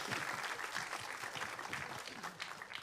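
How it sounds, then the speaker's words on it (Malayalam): Audience applause fills a hall at a Malayalam film promotion event, a dense, steady clapping from a large crowd that continues evenly throughout. "നിങ്ങൾ വലിയൊരു കയ്യടി കൊടുക്കണം"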